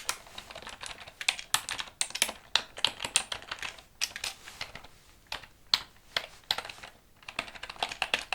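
Typing on a computer keyboard in a quiet room, close crisp key clicks in irregular bursts with brief pauses, no voices.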